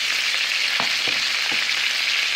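Chicken pieces sizzle and fry steadily in a hot pan, a loud continuous hiss with a few faint clicks of stirring, cooked for a dish with green onions and egg noodles; no one speaks.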